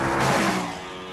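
Brief loud burst from an Ascari A10 carbon fibre car with a mid-mounted 5-litre BMW M5 V8, roaring briefly then fading within about a second.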